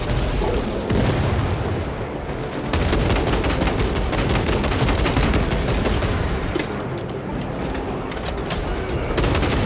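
Dense gunfire and explosions from a Warhammer video game battle, continuous rapid crackling shots layered over heavy booms, loud and relentless throughout.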